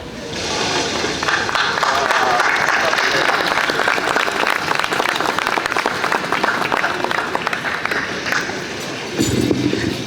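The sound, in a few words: crowd applause honouring Natalie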